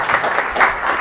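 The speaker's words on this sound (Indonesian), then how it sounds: "Tepuk tangan dulu buat para pemantik." Audience clapping for a panel of discussion speakers at a public forum on media oligarchy, a steady dense wash of hands swelling and easing over a second, no voices on top.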